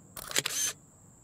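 A single camera shutter firing close by with image stabilization switched off, a short clean mechanical clack-and-whir in a quiet room.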